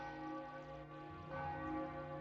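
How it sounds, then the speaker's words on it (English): Church bells tolling in Morrowind with the Tamriel Rebuilt mod, a faint, sustained ringing bell tone with a second strike swelling partway through, no speech. "it's a sad day. You can hear the bells."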